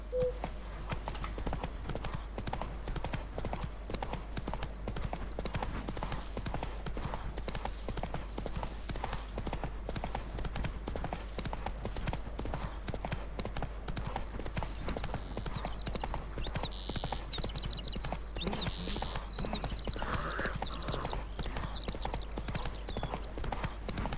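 Horse hooves clip-clop at a steady galloping rhythm in The Witcher 3, continuous and fairly quiet over a constant low game hum, with faint ambient sounds later.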